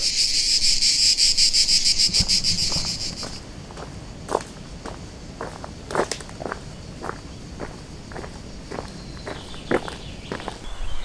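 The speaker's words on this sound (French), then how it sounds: "Je suis entouré de cigales et j'en vois aucune." Outdoor mountain trail where a steady shrill buzz of cicadas fills the first few seconds, then fades as a series of distinct crunching footsteps, one every half second or so, continues close by with no talk.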